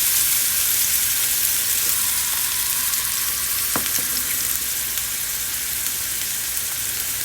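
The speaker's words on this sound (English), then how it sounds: "So we're going to place our salmon down." Salmon fillet searing in a hot pan, a steady loud sizzle and crackle of frying oil running throughout with a brief sharper pop partway, no talking.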